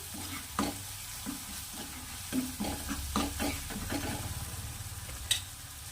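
Flat beans are stirred in a pan with turmeric, red chili powder and green chilies, with quiet spoon scrapes and soft clanks against the pan over a low steady sizzle and no speech.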